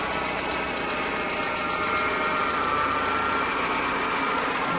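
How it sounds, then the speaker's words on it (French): A Peugeot 206 CC RC Line petrol engine idling evenly, a steady close mechanical hum with a light ticking texture that stays constant throughout. "Le moteur tourne vraiment bien, hein."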